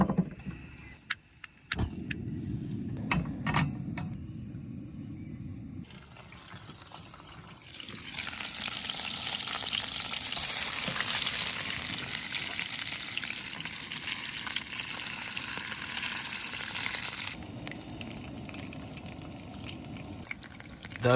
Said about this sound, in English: We're just going to drop the oil in there, flip it over a couple times, fry it up real quick.